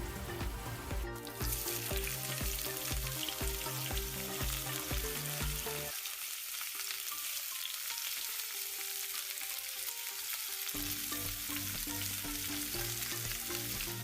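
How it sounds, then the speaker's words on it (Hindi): Onions fry in a little oil with ginger garlic paste, giving a steady, close sizzle throughout that briefly shifts in tone as the pan is stirred, with no talking. "प्याज को थोड़े तेल में मैं यहाँ फ्राई कर रहा हूँ।"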